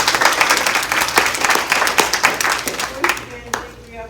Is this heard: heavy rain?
no